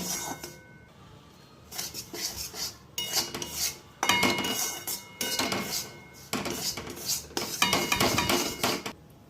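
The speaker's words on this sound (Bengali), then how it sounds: "এরপর ওই ডালের গুঁড়োটা দিয়ে দিলাম, ভালোভাবে ভেজে নেবো লাল করে" Moong dal flour roasting in ghee in a wok, with a metal spatula scraping and clinking against the pan in steady, repeated strokes, close and fairly loud.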